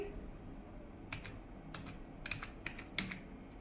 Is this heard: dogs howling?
no